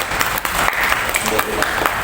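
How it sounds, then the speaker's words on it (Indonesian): At a halal bihalal gathering, an audience applauds the Education Office with dense, steady clapping throughout, close and fairly loud, with voices mixed in. "Tepuk tangan untuk Dinas Pendidikan."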